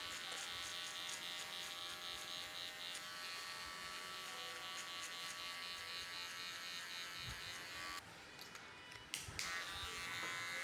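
Electric hair clippers fitted with a number 1.5 guard, lever open, cutting hair during a mid skin fade; a steady close buzz runs throughout, briefly dipping and changing near the end.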